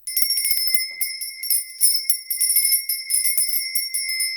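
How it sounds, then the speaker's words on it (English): Small handbell rung steadily and repeatedly up close, loud bright ringing tones with a rhythmic shaking pattern and no talking over it. "I have my little lady bell."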